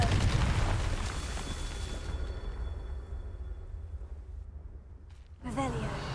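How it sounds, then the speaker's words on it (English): A Confringo explosive spell in Hogwarts Legacy lands as a loud, booming blast that fades out over several seconds. A voice comes in briefly near the end. "Confringo"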